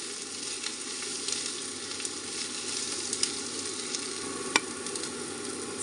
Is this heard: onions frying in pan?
yes